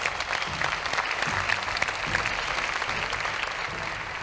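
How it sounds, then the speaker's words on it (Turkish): Audience applause for an orchestra on a Turkish entertainment show, a continuous, even wash of clapping from a large crowd, with faint low sounds beneath. "Alkışlar size."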